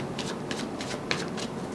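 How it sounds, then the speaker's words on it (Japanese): Oracle cards being shuffled and drawn by hand for a tarot reading, several quick, close, papery riffling bursts with no talking. "ちょっともう一枚このオラクルカードの補佐引いてみましょうか"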